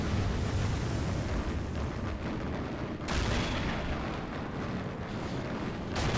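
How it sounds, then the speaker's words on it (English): Two tanks blow up together in the battle game Assault Squad 2, loud sustained explosions and gunfire rumbling through a dense, continuous war din with a fresh blast near the middle. "Was that 2 tanks that just went up at the same time?"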